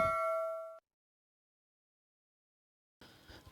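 A single bright, ringing notification bell chime sounds at the start and cuts off sharply, followed by silence and then a soft burst of noise.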